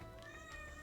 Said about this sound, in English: Yeah, cat?